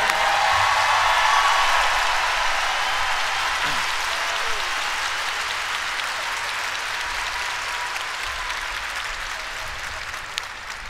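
A large arena crowd at a concert applauds the performers, a dense, sustained wash of clapping that starts loud and eases off slightly over about eleven seconds, with no voices rising above it.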